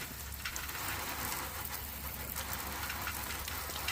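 Steady broadband hiss of a garden water hose spraying a stainless steel surface during rust removal, continuous and fairly even for the whole stretch, with no talk over it.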